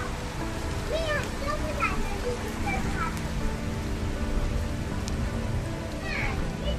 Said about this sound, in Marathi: भयानक पाऊस आहे रे बाबा.